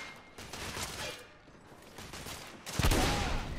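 Gunfire in the video game The Order: 1886 comes as bursts of rapid shots and mechanical clatter, fairly quiet at first and then swelling into a louder volley.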